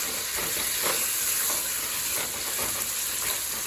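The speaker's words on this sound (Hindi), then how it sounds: "ये डाल देंगे इसमें। और इसका कलर चेंज होने तक हम इसे भूनेंगे।" One and a half pounds of boneless chicken searing in a pan, a continuous close sizzle broken by soft stirring knocks at irregular intervals, no talking.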